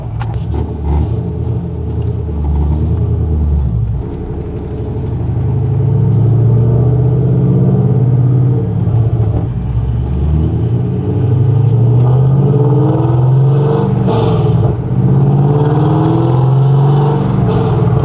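A C6 Corvette with an LS V8 runs on a dyno, its engine droning loud and close before swelling into sustained higher-rev pulls with rumbling exhaust throughout.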